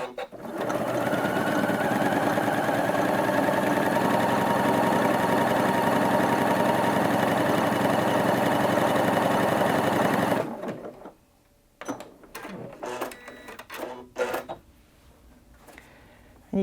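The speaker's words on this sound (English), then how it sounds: "let's just select that serpentine stitch now. And let's go ahead and sew with the Acufeed" A Janome Atelier 7 Anniversary Edition sewing machine runs a serpentine stitch with the Acufeed, a loud steady whirring drone for about ten seconds that then stops, leaving scattered quiet clicks and handling noises.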